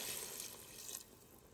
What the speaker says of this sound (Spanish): ahora le vamos a agregar agua.